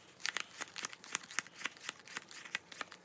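Vintage Albano Waite tarot cards being flipped through by hand, a rapid run of crisp, close papery flicks and snaps, about a dozen in quick uneven rhythm, quiet and with no talking.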